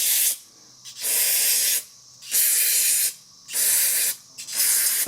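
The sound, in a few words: carb cleaner spray on a blower air filter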